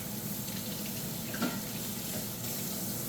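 Water from a kitchen tap runs steadily over a tomato can being rinsed. The rush is continuous and moderately close, with a brief splash near the middle and no talking.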